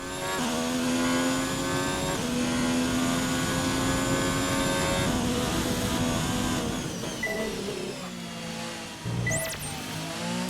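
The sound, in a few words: F1 2019 race car engine accelerating, video game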